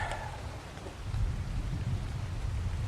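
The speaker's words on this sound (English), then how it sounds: "we're gonna be going through the loud rain here" Heavy rain pours steadily in the game Ark, a dense wash of hiss with a deep low rumble swelling after the first second, like thunder rolling under the downpour.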